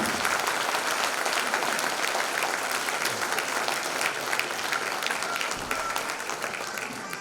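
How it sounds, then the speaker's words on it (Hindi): Audience at a poetry gathering (kavi sammelan) applauding steadily, a dense wash of many hands clapping at close range that holds for the full stretch with no voices over it. "एक बार इसके लिए आपकी जोरदार तालियां बनेंगी"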